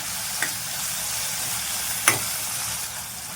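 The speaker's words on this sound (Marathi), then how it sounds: "एक टोमॅटो मध्यम आकाराचा कट करून घेतलेला आहे तो पण टाकायचा आहे तो टाकल्यानंतर आपण परत एकदा असं मिक्स करून घ्यायचं आहे" Chopped tomato is stirred into garlic and fenugreek frying in a pan, a soft steady sizzle close by with a couple of faint scraping clinks from the spoon.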